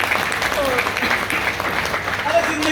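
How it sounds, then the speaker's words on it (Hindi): An audience claps for a woman at a Happy Health India seminar, a short, dense burst of applause with voices talking over it. "मैडम के लिए ताली मारते बढ़िया।"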